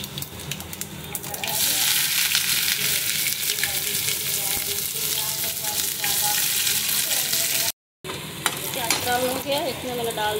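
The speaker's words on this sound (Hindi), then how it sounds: "तेल ऑयल गर्म हो गया हमारा, लहसुन पहले करेंगे" Garlic frying in hot oil in a pan for a bottle gourd and tomato curry, a loud continuous sizzle with occasional stirring scrapes, briefly cut by a short gap near the end.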